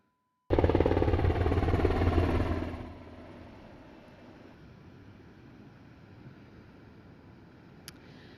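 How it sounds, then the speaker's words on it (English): A Ventura County Fire Department helicopter sweeps over the flooded coastline near the Ventura Pier. Its loud, rumbling rotor wash dominates at first, then fades to a steady, distant drone mixed with wind. "here's some video of the Ventura County Fire Department's helicopter scouring the coastline near the Ventura Pier earlier this morning"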